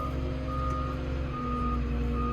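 A Takeuchi digger's reversing alarm beeps steadily and loudly over a low engine rumble, with no talking.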